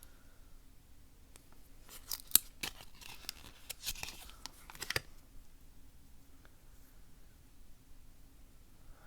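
Scissors cut oracle cards in a quiet room, a cluster of faint crisp snips and paper rustles over a few seconds, then near silence.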